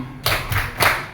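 Grade 4 schoolchildren in a classroom perform the Tepuk Pak Maman clapping routine, giving three sharp, close group claps in quick rhythmic succession.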